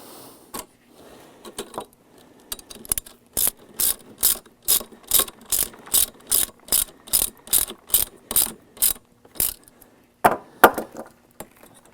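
A standard manual wheelchair's wheel lock ratchets into place: a quick, evenly spaced run of sharp mechanical clicks, close and loud, then a few irregular clacks at the end, with no talk.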